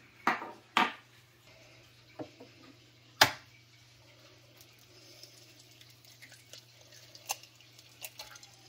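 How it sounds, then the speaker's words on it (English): A few sharp cracks and taps of a year-old unrefrigerated eggshell against a frying pan, followed by quieter clicks and soft rustling over a low steady hum. "we will crack this into the frying pan now"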